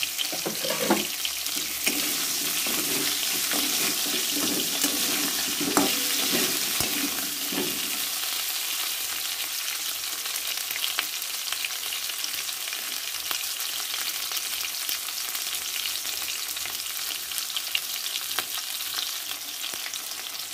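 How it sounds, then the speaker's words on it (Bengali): Chopped onion frying in hot oil with bay leaf and cumin seeds, a continuous close sizzle with some stirring scrapes early on, then a steady hiss, no talk. "তেজপাতা জিরে ফোড়ন দিয়ে কুচনো পেঁয়াজটা ভালো করে ভেজে আমি মশলাটা দেবো"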